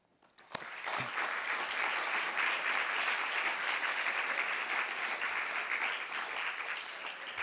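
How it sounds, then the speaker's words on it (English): Warm audience applause at a peace partnership event swells in quickly after a sharp first clap and then holds as a dense, even wash of clapping for several seconds. "I really call you all to give them a warm applause for what they all did."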